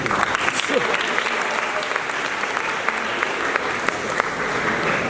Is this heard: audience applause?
yes